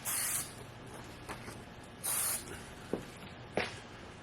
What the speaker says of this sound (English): Got my spray adhesive.